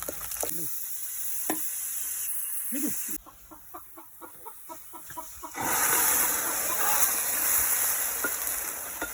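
Hot oil crackles and sizzles as curry leaves and coriander stems are dropped into a pan, a few sharp pops, then the frying swells into a louder, steady hiss.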